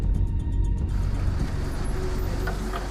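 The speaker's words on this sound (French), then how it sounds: "Son ami arrive en voiture." A car pulls up amid steady road traffic noise, a low engine rumble dominating with faint higher rattles, continuous and fairly close.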